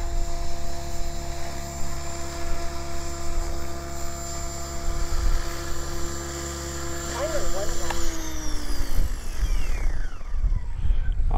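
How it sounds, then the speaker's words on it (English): An RC model helicopter flying at a field gives a loud, steady rotor and turbine whine with a slight pitch wobble, then winds down near the end as the blades slow, while someone talks over it. "Beautiful helicopter. I really do like this one."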